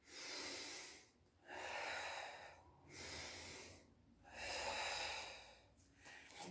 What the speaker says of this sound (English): We're going to take 3 power breaths.